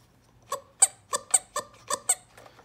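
A vintage 1966 Fisher Price toy gives seven sharp, high squeaks in a steady rhythm as it is pressed down repeatedly, close and clear against near silence.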